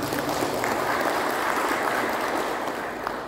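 Moderate applause from a seminar audience, a steady wash of clapping that fades slightly near the end.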